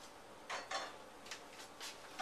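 A whisk works thick cheese sauce into cooked macaroni in a baking pan of about 8 by 12, giving a few quiet, quick scraping strokes in an uneven rhythm.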